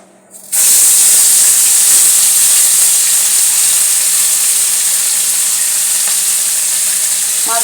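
Fish coated in mustard-poppy paste drops into hot oil with a sudden loud burst of sizzling that settles into a steady, close hiss and spatter for several seconds.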